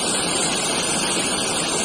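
Red-tinted creek in Rize rushing steadily, a dense, continuous broadband wash of flowing water, close and loud throughout with no pauses.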